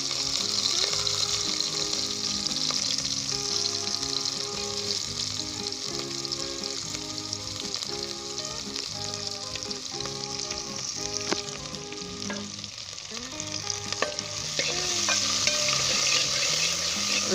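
Onion, ginger and garlic sizzle steadily in hot oil in a pan, a constant dense crackle with light stirring throughout and no speech.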